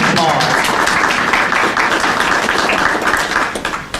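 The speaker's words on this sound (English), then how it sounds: "can you help me give yourselves, please, a round of applause." Audience applause at a Suitland, Maryland city community meeting, a dense, steady wash of many hands clapping for about four seconds, loud and close, thinning slightly toward the end.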